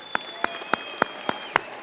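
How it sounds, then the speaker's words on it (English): At an awards banquet honoring flight attendants, single, sharp hand claps sound in a steady rhythm, about seven in under two seconds, evenly spaced over a faint steady hum. "How about a round of applause for the flight attendants that have to put up with all this nonsense?"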